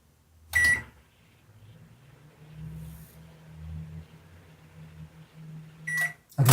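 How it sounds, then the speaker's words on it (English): A microwave oven hums steadily for about five seconds while softening butter, framed by clicks and a beep at the door opening and closing at either end. "I'm going to put it in the microwave for like 4 seconds"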